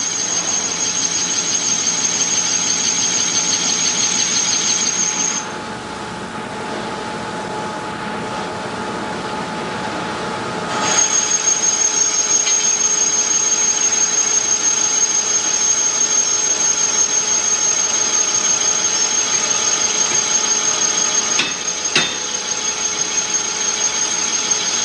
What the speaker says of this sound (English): The boring operation is where the chopper plate fits inside the bore.